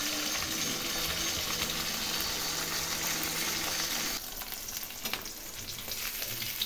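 Pieces of rohu fish sizzle steadily in hot oil, a dense continuous frying crackle that dips slightly midway as a piece is turned, then carries on with scattered pops.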